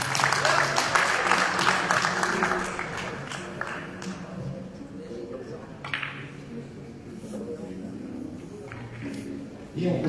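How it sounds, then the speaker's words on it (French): An audience applauds a player being introduced at a world championship event, a burst of clapping that fades gradually while an announcer talks over it. "Les applaudissements pour Charlotte Sorensen."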